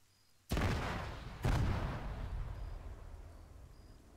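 Two loud grenade blasts in the Arma 3 Apex jungle campaign, about a second apart, each a sudden heavy boom rolling into a long fading rumble.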